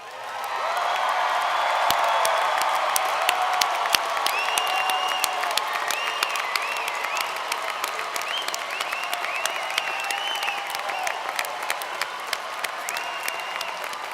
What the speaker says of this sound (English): Graduates, please turn, face the audience, and receive their applause.